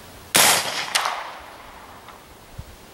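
Single sharp report of a subsonic 300 Blackout rifle firing a 190 grain round at a gel block 100 yards away outdoors, a loud crack with a quick echo, then a faint distant knock.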